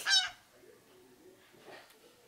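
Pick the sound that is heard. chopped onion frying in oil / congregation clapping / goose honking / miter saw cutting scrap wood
goose honking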